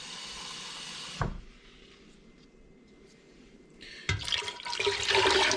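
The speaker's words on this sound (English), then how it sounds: "now we're going to add 2 liters of cold water" Two liters of cold water poured into a container while making sima, a fermented Finnish citrus drink: a loud steady rush of running water starts and stops, then a louder splashing pour follows after a short quiet gap.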